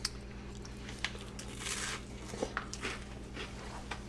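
Crunchy freeze-dried Gouda cheese bitten and chewed up close, with a few crisp crackling bites over a steady low background hum, no talking.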